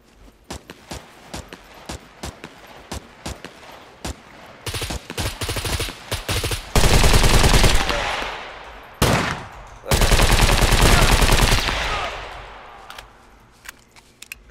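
Bursts of automatic and single-shot gunfire during a PvP fight in the survival game SCUM, scattered sharp shots early on, then long, loud sustained volleys with brief gaps, heavy and close.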